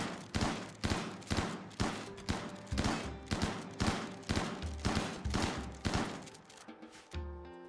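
Rapid bursts of gunfire in the Rimworld colony game, roughly a dozen sharp repeated volleys at a steady rhythm, loud and close, with no talking over them.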